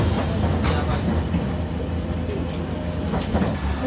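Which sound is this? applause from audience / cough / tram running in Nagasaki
tram running in Nagasaki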